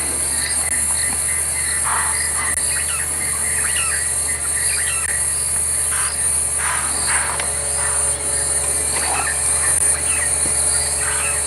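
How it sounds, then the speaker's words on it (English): At a safari sunset, insects keep up a steady, dense chirring drone, while scattered bird calls, including kingfishers, and occasional distant animal alarm calls rise briefly above it, with no one talking. "the birds, the kingfishers are going, the impalas are alarming, the insects are starting to chirp"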